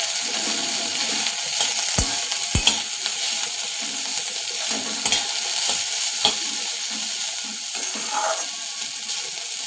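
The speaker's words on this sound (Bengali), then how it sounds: "নেড়ে দেব।" Bitter gourd frying in mustard sauce is stirred in a pan: a steady, dense sizzle runs throughout, with a few sharp clicks and scrapes of the spoon against the pan.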